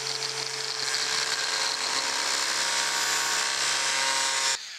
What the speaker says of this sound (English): We're just gonna follow that crack all the way down here.